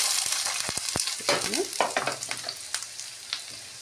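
Chopped onions hit hot mustard oil in a pan for bread pakora, giving a bright crackling sizzle with quick stirring taps and scrapes, fairly quiet and close, with no voices.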